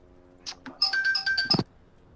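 A mobile phone ringtone sounds during a Rising Storm 2: Vietnam match, a short bright electronic melody of repeated tones lasting about a second, loud and close, preceded by a couple of faint taps.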